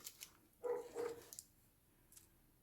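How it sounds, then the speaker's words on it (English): A neighbor's dog barks twice in the middle distance, two quick muffled barks close together, with faint outdoor background and no speech. "I don't know if you guys can hear the neighbor's dog barking,"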